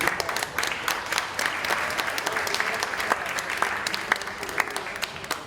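Audience applause for sponsors and supporters at the opening of a conference event, a sustained crowd clapping with distinct sharp individual claps standing out, moderately loud and continuous.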